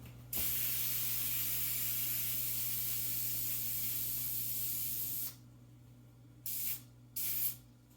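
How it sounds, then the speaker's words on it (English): A long continuous hiss of cooking spray sprayed onto a hand, lasting several seconds, followed by two short bursts after a pause. "I'm going to spray my hand again"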